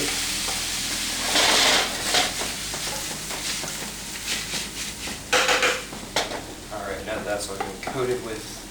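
Food sizzles and is stirred in a very hot pan for a Chinese takeout-style stir-fry. Loud frying hiss comes in bursts with scraping utensil strokes and clanks on the pan.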